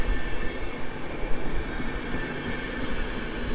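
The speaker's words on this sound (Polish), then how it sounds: "Kolejny wagon sypialny, wagony czeskie do Pragi i na końcu mamy także polskie wagony" A night passenger train with sleeping cars runs through Warszawa Zachodnia station, a broad continuous rumble and roar of rolling wagons with a faint squeal, loud and steady, with no talk.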